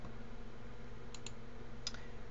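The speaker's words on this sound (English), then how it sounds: "I click on play." A few light mouse clicks on a play button, two quick taps followed by another small burst a moment later, crisp and close over a faint steady hum.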